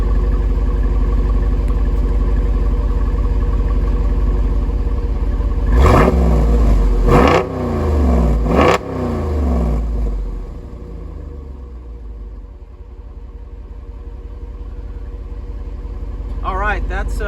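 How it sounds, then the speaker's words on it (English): A Jeep Wrangler Rubicon 392 V8 idles with a deep exhaust rumble, then revs hard in three sharp bursts before settling back to a low, loping idle. "give it a couple of licks just so you guys can hear the exhaust"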